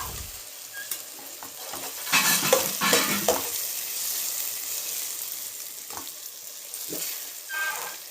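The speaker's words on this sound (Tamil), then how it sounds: "இப்போ வந்து நம்ம வந்து வதக்கி விடலாம்" Food sautéing in a home kitchen pan, a continuous sizzle broken by louder bursts of spatula scraping and stirring against the pan, with a few clinks near the end.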